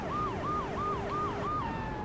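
Police car siren in the video game GTA 3, a rapid repeating wail rising and falling about five times in two seconds, steady and prominent over a low rumble of in-game traffic.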